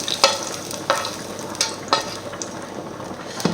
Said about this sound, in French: notre purée de pommes de terre cuit tranquillement